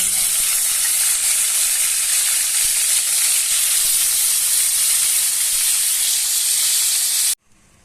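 Milkfish (bangus) frying in hot oil, a dense, steady hiss and crackle of sizzling that holds loud and unbroken for several seconds before cutting off abruptly.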